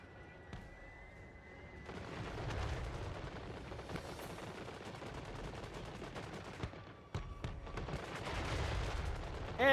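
Battlefield in Total War: Warhammer III with artillery and gunfire, bursts of cannon booms and rattling volleys starting after a quiet opening and rolling on near and loud, with a brief lull before a final surge.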